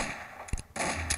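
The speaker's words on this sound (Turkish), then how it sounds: "Ve silah 2 atıyor." Two sharp gunshots from a weapon in a video game, loud and close, separated by a brief gap over a steady game background.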